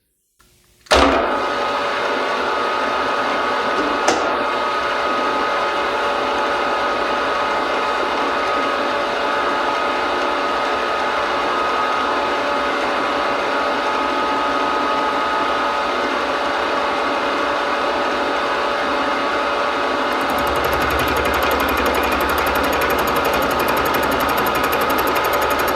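A milling machine cuts steel stock down to dimension with a face pass, starting abruptly and then holding a continuous loud whirring, buzzing grind with a brief click early on and a shift in tone near the end.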